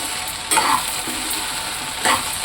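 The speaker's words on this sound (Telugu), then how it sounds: "ఈ కూర అవుతుండగానే పక్కన పిల్లల కోసం బెండకాయ ఫ్రై అయితే చేసేస్తున్నాను" Okra fry stirred in a pan, a loud, steady sizzle of oil with two brief swells where the spatula pushes through the pieces.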